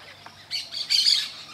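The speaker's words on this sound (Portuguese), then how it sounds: "Naquela árvore ali tem vários papagaios" Parrots in a tree beside the São Lourenço river give a few harsh squawks and chirps that build toward the end, heard against quiet outdoor background.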